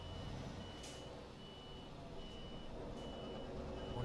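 A truck in Euro Truck Simulator 2 reverses with a faint, steady run of repeated backup beeps over a low engine rumble.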